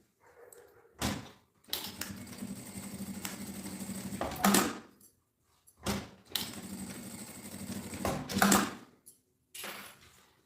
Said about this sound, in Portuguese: Aí, a gente passa a costura.